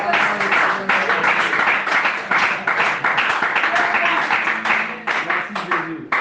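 A church congregation applauds the Lord, a sustained roomful of dense hand clapping with some voices mixed in, steady and close for several seconds before it begins to thin out.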